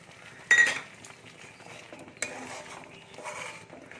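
Cashew paste being stirred in a kadai gives a few metallic scrapes and clinks of a spoon against the pan, close by, in short uneven bursts.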